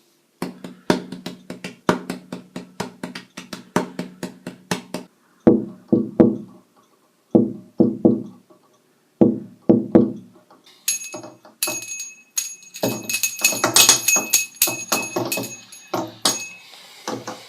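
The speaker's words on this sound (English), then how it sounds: "they'll probably wonder why the hell I'm banging on the door" Rapid, repeated knocking and banging of a hand on a door in uneven bursts, with some jangling metallic clinks joining toward the end.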